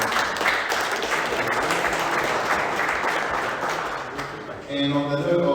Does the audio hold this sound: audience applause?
yes